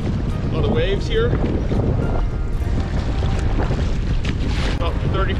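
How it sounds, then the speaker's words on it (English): Wind buffeting and choppy whitecap waves slapping a fishing boat on Paulina Lake, Oregon, loud and constant throughout, with wind rumble on the microphone. "We got a lot of waves here."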